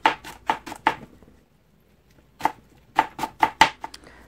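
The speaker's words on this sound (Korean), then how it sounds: "대파는 잘게 썰어주세요." Green onion being finely chopped with a knife on a cutting board: two bursts of crisp, rhythmic close-up chops separated by a short pause, with no voices.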